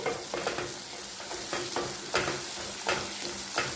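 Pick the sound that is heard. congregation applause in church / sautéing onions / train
sautéing onions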